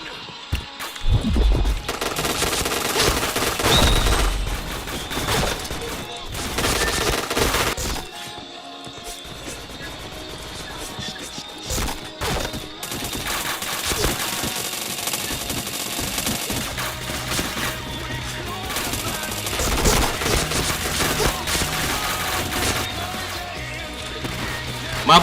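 Gunfire in a mobile shooting video game: rapid automatic bursts and single shots crackle close and loud, mixed with other game effects and sharp impacts, with faint voices in the background at times.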